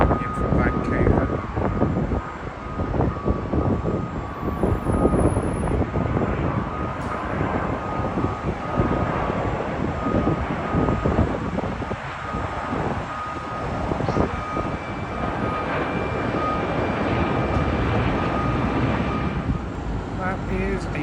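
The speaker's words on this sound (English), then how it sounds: "British Airways, Airbus A350, in from Vancouver." A British Airways Airbus A350 jet arrives at Heathrow, its engines a broad steady roar that swells and holds for the whole stretch, with wind noise and a faint intermittent beeping mixed in.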